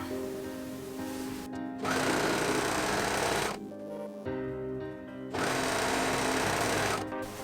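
Two bursts of a sewing machine running rapidly while stitching the shoulder seams of a woven fabric top, each lasting under two seconds, close and loud with brief pauses.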